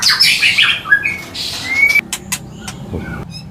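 A white-rumped shama (murai hutan) at a bird kiosk gives harsh squawks and sharp whistled notes, loud and close, followed by quick clicking chips and a few softer calls.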